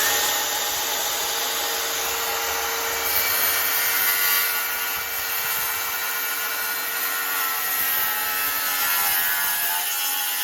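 A power saw cuts freehand along a line on a wooden stair stringer, giving a continuous loud, close, rasping whine that holds steady for about ten seconds with no talking.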